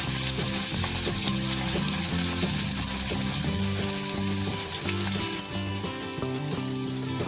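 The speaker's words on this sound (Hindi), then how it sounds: "अब इसमें हम अनियन डालेंगे, इसको फ्यू सेकंड्स के लिए सौटे कर लेंगे।" Chopped onions sauté in hot oil with whole black cardamom, cloves and cinnamon for coriander rice, giving a steady close sizzle that runs the whole time beneath loud, tuneful background music.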